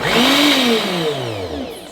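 Blender running inside a French-made camper van, a loud steady motor whine that sweeps down in pitch as it spins, alone for about two seconds.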